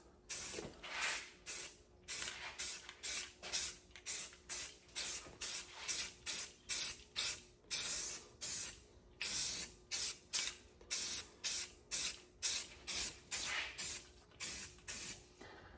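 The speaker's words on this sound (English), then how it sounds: "So now I'm going to just give her a little light spritz." A Rust-Oleum Rust Reformer spray can lays down paint in a long series of short, rhythmic hissing bursts, each about half a second, repeated steadily with brief gaps, close and fairly quiet.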